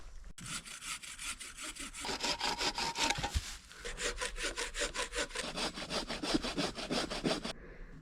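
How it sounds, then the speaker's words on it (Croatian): A hand saw cuts through wood for a riverside cabin build, a close, loud, rhythmic back-and-forth rasp of steady strokes running almost the whole time, with a short break midway. "i idemo ih rezati."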